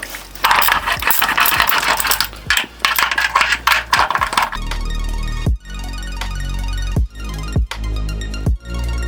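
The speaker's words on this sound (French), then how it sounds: "Maintenant on va s'enlever tous les écrous qui sont là." A ratchet removes the nuts from an electric water heater, giving fast, close mechanical clicking at first. A steady hum then follows, broken by sharper intermittent clicks and knocks.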